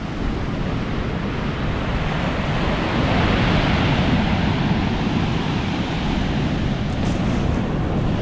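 Sea waves break and wash continuously on Silecroft Beach in Cumbria, with a steady roar and wind buffeting the microphone. No one speaks.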